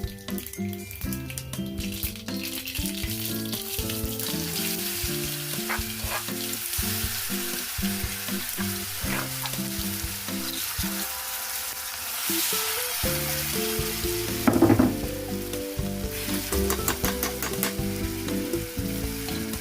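A hot oil tempering for Nellore gongura pachadi sizzles and crackles steadily and close up, with stirring and scraping that continues throughout and no talking.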